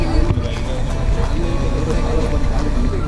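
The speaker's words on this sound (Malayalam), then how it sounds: "നമ്മളിവിടുന്ന് ഇപ്പം ബോട്ട് സ്റ്റാർട്ട് ചെയ്തു." A motorboat just started off Malpe beach bound for St. Mary's Island, its engine rumbling steadily with wind noise and someone talking over it.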